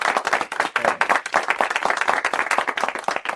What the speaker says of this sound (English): so now we have technology to help us clap